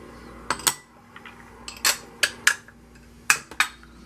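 Batter mixed in a bowl with a utensil: a handful of sharp clinks and scrapes against the bowl, spaced irregularly over a quiet kitchen background.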